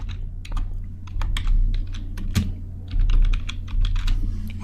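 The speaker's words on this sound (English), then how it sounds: "I'll just type in some details." Computer keyboard typing, quick irregular bursts of close, crisp key clicks with short pauses between words, heard alone without talk.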